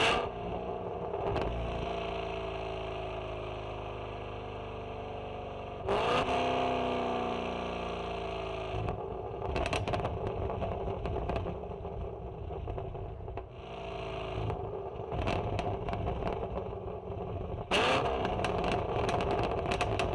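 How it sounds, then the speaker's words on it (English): A Gen 5 LT engine tuned for deceleration pops surges and drops through several revs, with crackling bursts and sharp bangs clustered between throttle blips over about twenty seconds, loud and close. "how often you're making your car pop"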